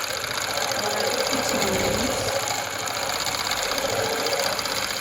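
A sewing machine stitching free-motion quilting spirals on a hand-embroidered, hand-pieced quilt, its rapid needle chatter and motor hum running loud and unbroken.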